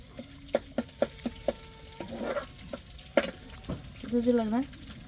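Leafy greens with garlic sizzle steadily in a hot pan, with a string of sharp clicks and scrapes from stirring at the start and a voice briefly heard near the end.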